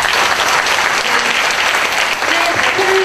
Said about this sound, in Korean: 발표를 준비한 수고한 모든 분들께 다시 한번 격려의 박수 부탁드립니다.